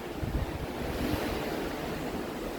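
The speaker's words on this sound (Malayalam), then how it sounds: "ഇപ്പം കടലിലൂടെയാണ് സഞ്ചരിച്ചു കൊണ്ടിരിക്കുന്നത്" Sea waves rush past a Royal Caribbean cruise ship at night, a soft continuous wash of water with low wind rumble, steady and moderately distant.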